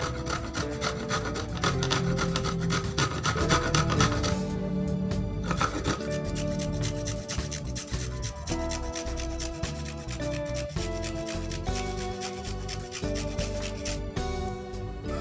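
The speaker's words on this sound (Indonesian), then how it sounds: "Ini masih proses memarut." Cassava being grated by hand, a loud, continuous rhythmic rasping of root against a grater, close up and steady throughout with no voices.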